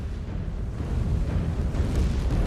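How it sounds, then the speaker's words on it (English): A mech's exposed reactor blows up in MechWarrior 5: Clans, giving a sustained, rumbling explosion with heavy low-end roar that holds steady for several seconds, loud and close, with no voices over it. "Exposed reactor. Explosion imminent."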